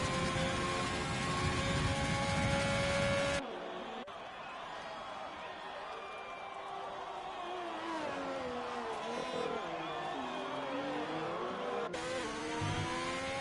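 A race car engine on a hot lap at Bahrain in a racing game, loud and steady, its pitch rising and falling through gear changes and corners. A commentator's voice talks over it.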